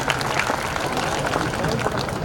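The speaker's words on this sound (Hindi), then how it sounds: "जोरदार तालियां भाई, थपड़ी में कमी ना रहेगी चाहिए, तालियां जोरदार बजेगी चाहिए" Crowd at a Chhath Puja gathering clapping hard, a dense, loud, continuous patter of many hands with voices murmuring through it.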